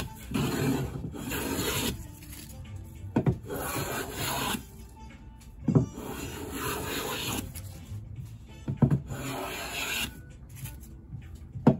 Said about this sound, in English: I'm going to have to use a hand plane and clean this all up